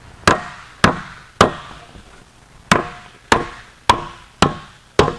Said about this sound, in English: You've got to hit with the hammer at this angle.